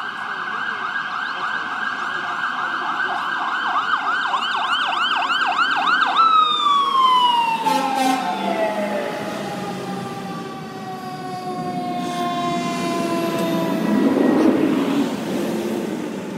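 Ambulance and fire truck sirens wail close by, a rapid yelp giving way to a long falling wail as the vehicles pass, with deep horn-like tones layered underneath.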